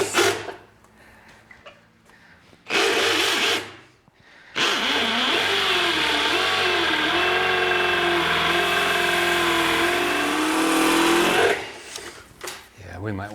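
A drill bores into a thick concrete garage slab, a loud sustained grinding whine with shifting pitch as the bit labors, broken by brief stops and restarts, with people talking around it.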